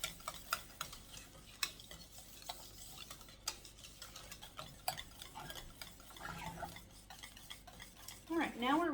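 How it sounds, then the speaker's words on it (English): Lemon meringue pie filling is being whisked in a pot, giving soft, irregular ticks and clinks of a whisk against the metal. The sound is faint and close, with no talking. "Whisk that up."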